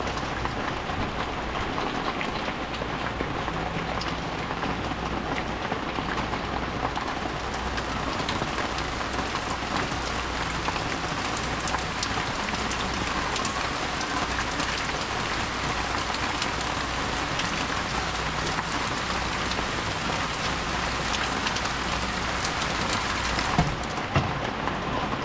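Heavy rain pours down in a flooded area where vendors sell goods, a loud constant patter and hiss drumming on surfaces for the whole stretch, with no one talking.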